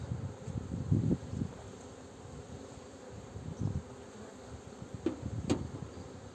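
Bees buzz faintly and steadily close by, with brief louder passes and a few soft rustles and knocks.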